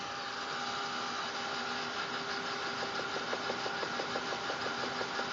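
Bleached, sanded laser-cut wood being dried off with a blower, whose motor gives a loud, steady whirring drone with a faint rhythmic pulsing throughout and no talk.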